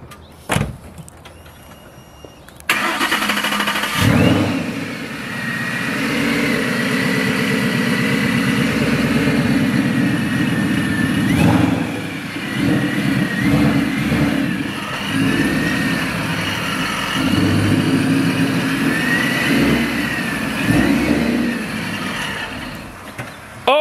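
A Ford Mustang engine starts with a sharp burst, then idles loudly with several rising revs as the car is eased into a parking spot at a new home, steady and close throughout.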